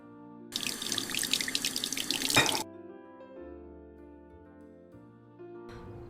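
Water gushes from a household tap into a sink in a loud, splashy stream for about two seconds, then cuts off abruptly, leaving a quiet room with a faint steady hum.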